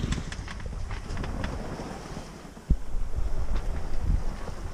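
A sailboat running under full sail through strong gusts on an open-sea crossing back from the Balearics, with steady roaring wind buffeting the microphone, rushing water, and a sharp thump partway through before the gusty noise swells louder.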